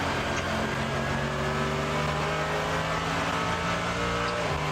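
Onboard engine of a race car at the 24h Nürburgring endurance race, a loud, steady high-revving drone with dense harmonics running throughout, with small pitch shifts as it changes gear.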